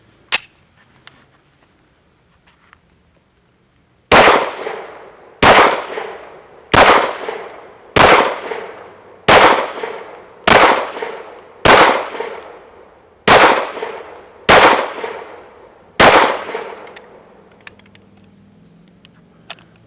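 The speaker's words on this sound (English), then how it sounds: "last 10 rounds with a competitor and loving every minute of it" Nine loud, sharp pistol shots from a Smith & Wesson M&P Competitor, fired one at a time at a steady pace of about one per second and a half, each with a short ringing decay, after a few quiet seconds.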